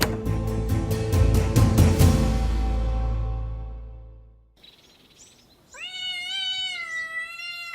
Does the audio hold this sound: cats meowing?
yes